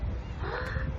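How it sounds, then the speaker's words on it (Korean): Several birds call from overhead on a summer day near water with pedal boats, one short harsh caw-like call rising briefly above the faint outdoor background. "오, 새 소리 들리세요?"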